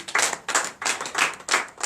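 A church congregation claps in acclamation during a night deliverance prayer service in Comè, Benin, sounding as close, loud rhythmic bursts of clapping in a regular beat, about five or six pulses.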